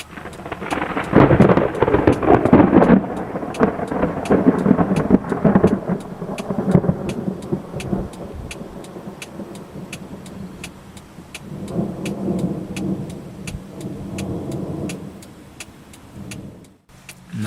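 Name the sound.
thunder from a storm anvil with rain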